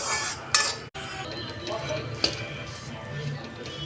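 Dried fruit and almonds roasting in a pan over a medium flame: spoon or spatula clinks and scrapes against the pan with a soft stirring rustle, moderately quiet and close.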